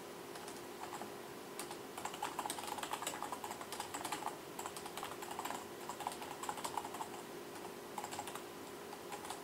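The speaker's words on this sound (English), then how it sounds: "I just type it in a straight line like that." Text is typed on a computer keyboard in a steady, rapid run of quiet key clicks that goes on for several seconds over faint room hiss, with no voices.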